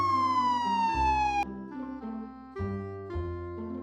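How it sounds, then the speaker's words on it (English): A cartoon fire truck siren sounds as a descending wail, then gives way to a bouncy two-tone siren pattern over a low musical backing. It is moderately loud and plays with no talk over it. "Turn on the siren."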